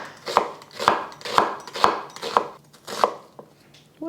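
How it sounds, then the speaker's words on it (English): Knife slicing half an onion on a board, seven crisp, evenly spaced chops about half a second apart, close and clear with no voices. "I'm just using half an onion. I'm just going to cut it up into slices."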